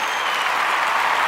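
Crowd cheering and applauding at a biathlon mass-start race in Hinton, a steady dense wash of clapping and cheers that holds at full level throughout, with no voices speaking over it.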